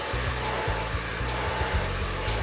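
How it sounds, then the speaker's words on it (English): Hair dryer blowing steadily while wrap-drying a woman's hair around her head for a smooth straight blow-out, a loud close whoosh with a low pulsing hum that shifts rhythmically as it moves, no talking. "Continue wrap drying all the way through, wrapping her hair around her head, helping to pull out that curl."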